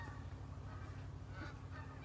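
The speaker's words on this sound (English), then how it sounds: "Oh, you can hear the geese in the background." Geese honking at a distance in the background, a continuous low chorus of calls with no talk over it.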